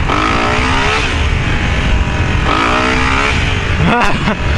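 A motorcycle engine revs hard during a wheelie attempt, loud and close, its pitch climbing and falling in two surges with a sharp burst near the end.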